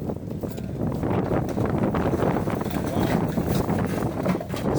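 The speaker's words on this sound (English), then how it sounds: "It really is windy." Steady gusty wind buffets the microphone outdoors, blowing wheelie bins about, a continuous loud rumbling roar throughout.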